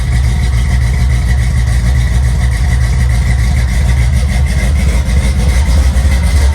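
A car engine idles close by while warming up, a steady, even rumble, a constant low drone that never revs up.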